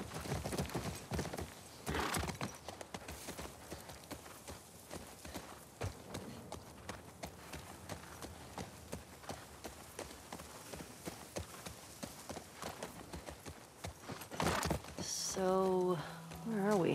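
Horse hooves clip-clop in a steady walking rhythm in the video game The Last of Us Part II, with a faint whinny, ambient game sounds, and louder tonal game effects near the end.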